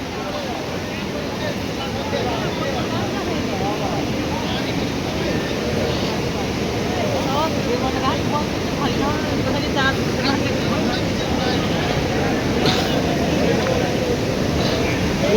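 Floodwater from a swollen river in Lalitpur, Kathmandu Valley, churns with a steady, loud roar close by, while a voice talks over the rushing water.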